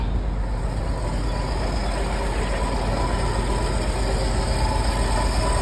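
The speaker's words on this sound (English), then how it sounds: "Stay even running flathead 6." A 1953 Dodge M37 with its flathead six idling steadily, running with an empty float after a carburetor float failure; a dense, continuous low rumble holds even and close throughout, with no talking.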